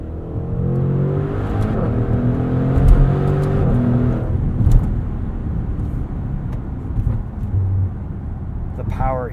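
A 2021 Maserati Trofeo SUV with a 590-horsepower engine and an 8-speed gearbox in full manual mode accelerates, its engine note climbing in pitch through the gears, heard close from inside the cabin.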